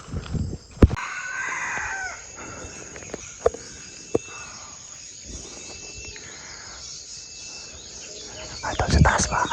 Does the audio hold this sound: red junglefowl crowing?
yes